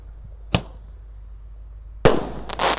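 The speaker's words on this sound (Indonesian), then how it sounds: "Menyalakan banyak sekali mercon, kembang api, dan petasan spesial menyambut Ramadan 2025." Fireworks and firecrackers, including roman candles, set off outdoors to welcome Ramadan 2025: a single sharp bang, then after a quiet pause another loud burst followed by crackling, fizzing bursts, with no voices.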